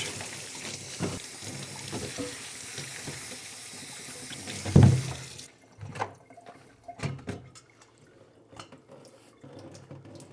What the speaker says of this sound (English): first thing I'm gonna do is wash the veg.